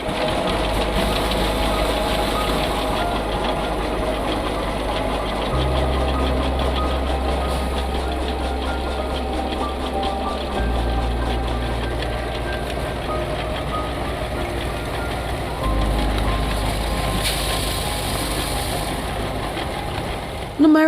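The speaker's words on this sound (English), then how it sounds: "Finally, the engine revs and milling begins." A manual rice mill's engine runs loud and close in a shed, a steady knocking, vibrating drone with heavy low thumping that shifts level every few seconds as milling goes on.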